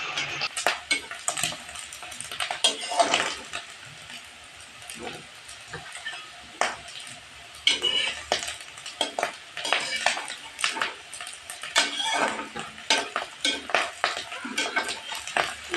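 Potatoes and day-old cooked dal being stirred and fried in a pan for potato karela curry: repeated metal spoon scrapes and clinks against the pan over a soft frying sizzle, close and fairly busy throughout.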